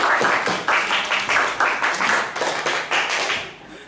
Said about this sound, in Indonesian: beri aplaus yang luar biasa